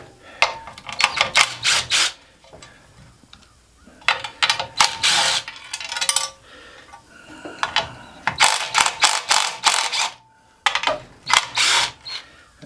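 A hand ratchet clicks in quick repeated bursts while four bolts are backed out of a big fan motor's bracket, with short pauses between the runs of clicking, close and fairly crisp.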